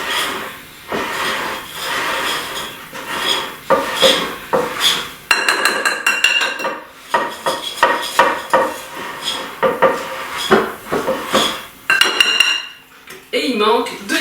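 A hand whisk beating muffin batter for chestnut and hazelnut muffins, loud rapid clinking and scraping against a bowl in uneven bursts, close up with no talking.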